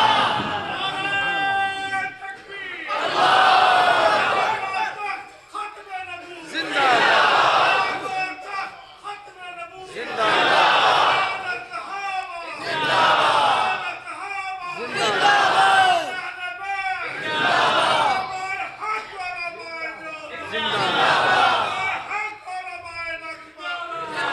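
Large crowd at a religious gathering in Khanewal chanting slogans in call-and-response, a loud leader's shout followed by a massed roar, repeating in regular waves.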